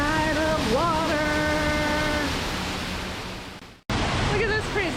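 Steady, loud rush of splashing water from the Salmon Springs fountain in Portland, broken by a brief cutout near the end, with faint tonal sounds over it early on.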